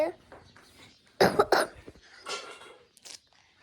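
Several sharp coughs burst out in a quick cluster, close and loud, followed by a softer cough or throat sound, with quiet murmuring around them.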